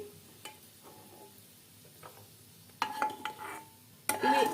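Dry fruits such as almonds roasting in oil in a pan over a low flame for flaxseed laddu, giving soft sizzling with occasional stirring scrapes that grow louder near the end, no talking.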